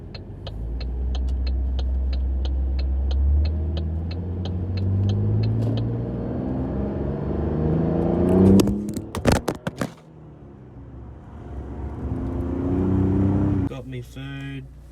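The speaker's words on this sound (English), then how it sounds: "about to move my car in." A car engine idles and rumbles steadily as the car is moved into a workshop, with a voice talking over it and a few sharp knocks near the end.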